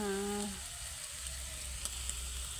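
Chicken sizzles in a hot pan while frying for adobo, a steady crackling hiss with a few small pops, after a short tonal hum at the start.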